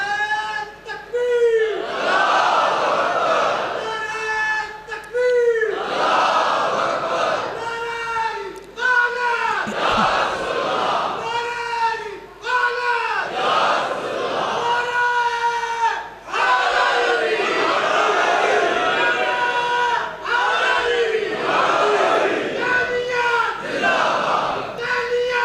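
A large religious gathering chants slogans (naara) in loud, repeated collective shouts, the crowd roaring together in surging waves that rise and fall without pause.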